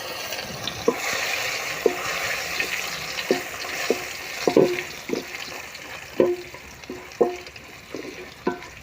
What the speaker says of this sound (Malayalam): വെളിച്ചെണ്ണ നന്നായിട്ട് ചൂടായിട്ടുണ്ട് നമുക്ക് അരിഞ്ഞു വെച്ചിരിക്കുന്ന തേങ്ങാക്കൊത്ത് പുതിനയില മല്ലിയില ഇട്ട് കൊടുക്കാം